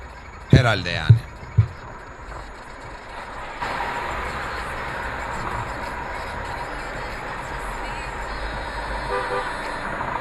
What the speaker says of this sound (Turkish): Birisi sizin arkanızdan abanırcasına korna çalsa ne yapardınız?